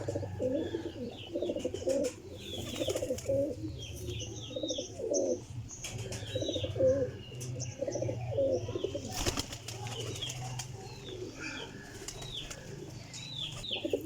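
A flock of pigeons coos continuously in low, rolling calls, with bursts of wing flapping and scattered chirps nearby.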